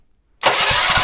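A Honda GX160 generator engine starts up: silence, then the engine catches abruptly and runs at a steady, loud idle with a low rhythmic thumping under a broad mechanical roar.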